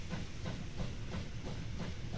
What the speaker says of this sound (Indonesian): Keretanya nggak mau berhenti guys